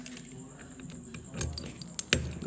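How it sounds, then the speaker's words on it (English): A small bunch of keys found in the boot of a VC Valiant car jangles close by in brief metallic clinks over a quiet background. "They're really small keys."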